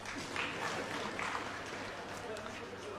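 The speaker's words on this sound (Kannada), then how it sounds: "ಗಂಡಸರು ಚಪ್ಪಾಳೆ ಹೊಡಿಬೇಕು ಇದಕ್ಕೆ" Audience applause at a Kannada stand-up comedy show comes through as a faint, steady wash of many hands clapping, distant and diffuse, with murmuring voices mixed in.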